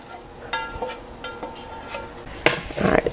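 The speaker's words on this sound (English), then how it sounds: "So let me just mix everything together in a bowl." Ground beef hash and eggs being mixed together in a bowl for breakfast bowls, with scattered utensil clinks and scrapes against the dish and a busier burst of stirring near the end, no talking.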